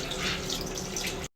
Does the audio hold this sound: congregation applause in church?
no